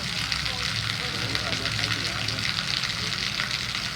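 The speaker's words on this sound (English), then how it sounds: "The rain is coming down hard again. Look at it coming off the roof." Heavy rain pours off a roof in Chapala Centro, a steady dense hiss and splatter that holds loud and even throughout with no pauses.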